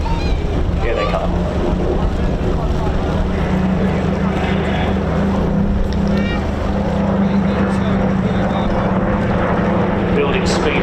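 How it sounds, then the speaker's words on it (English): A Spitfire Mark 9 and Mark 16 run in together at an airshow, their piston engines a loud, sustained roar that swells as they approach, with a commentator talking over it. "you see our Mark 9, Mark 16 Spitfires running in as a pair."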